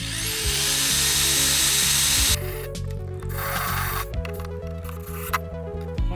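A power drill driving screws into a wooden scooter grind box, steady loud whirring that shifts pitch as the screw bites and stops, with repeated short bursts close by and no talk.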